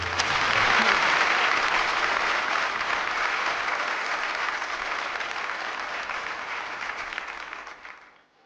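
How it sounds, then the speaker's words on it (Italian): An audience at a stage show gives a long burst of applause. It starts loud and full, then slowly thins and fades away at the end. "Venduto, l'abbiamo venduto, signori miei, un applauso."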